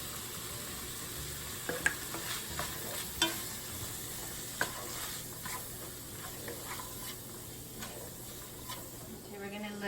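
Garlic, cilantro and onion cook on low heat in a pan for Mexican picadillo, giving a soft, steady sizzle with scattered small pops and a faint murmur of voices in the background.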